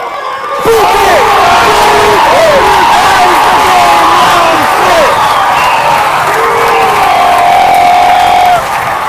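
A Pacific-Empire League baseball crowd at a Prune Packers vs. Medford Rogues game roars over a home run to left center, a loud, close, sustained wall of cheering with individual shouts and whoops that bursts in suddenly and holds for about eight seconds.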